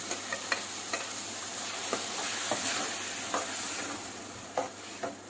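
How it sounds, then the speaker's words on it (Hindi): Tomato puree with pizza oregano and basil herbs frying in a pan, stirred now and then; scattered faint scraping taps ride over a steady low sizzle, with no talking. "बीच बीच में मैं इसे हिला रही हूँ।"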